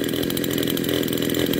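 A Huyosen 6020 Pro chainsaw with an aluminum handle runs steadily at high revs, a loud, close, continuous buzzing engine drone.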